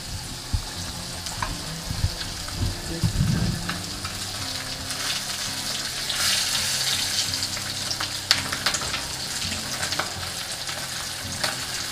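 An omelette fries in a hot pan with a steady, close sizzle that holds throughout, with occasional light clicks and a brief low rumble of movement early on.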